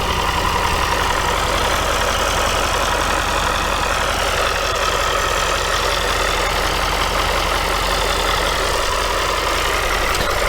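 A Range Rover engine idles steadily with the bonnet open, a continuous low mechanical hum with a faint knocking texture, close and constant throughout with no talk.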